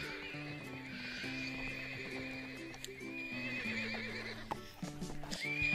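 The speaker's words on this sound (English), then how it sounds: "My goodness, these horses are so noisy!" Horses in the video game Wildlife Park 2 whinny and neigh repeatedly over a steady hum of game music, with clip-clopping hooves and a louder neigh near the end.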